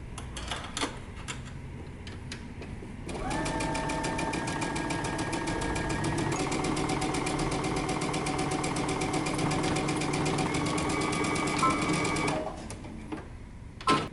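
A sewing machine stitches a seam with a 3/8 inch seam allowance on a dress. After a short quiet start it runs in a steady, close whir for about nine seconds, then stops, with no talking.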